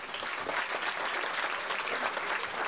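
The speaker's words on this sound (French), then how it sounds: "On peut les applaudir bien fort." Steady, dense clapping from an audience, continuous and fairly loud throughout with no pauses.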